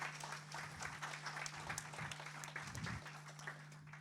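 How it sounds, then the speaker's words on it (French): Faint applause at a conference session, a soft, steady patter of audience clapping heard from a distance beneath a constant low electrical hum. "On peut les applaudir."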